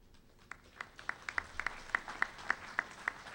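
Sparse, distant clapping at a CMI graduation ceremony in the Caribbean, a dozen or so distinct claps arriving in a loose, quickening rhythm, quiet and roomy with no talk.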